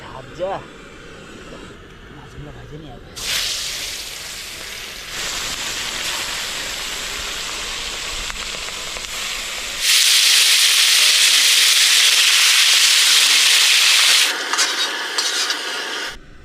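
Fish frying in hot oil in a kadai: a loud, steady hiss and sizzle that holds for many seconds, rises to a harsher roar midway, then eases off near the end.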